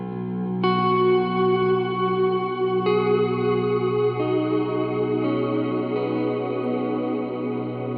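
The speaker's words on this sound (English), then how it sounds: "you can do the thing where you just let it wash out all the way" Guitar chords ring through a JHS 3-Series Octave Reverb pedal, each strum swelling into a long, shimmering wash of reverb that sustains and slowly fades, with a few new chords layered in.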